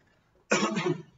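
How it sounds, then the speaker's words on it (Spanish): After a moment of quiet, a single sharp cough bursts out close by, harsh and breathy, then fades. "puedo toser con tranquilidad"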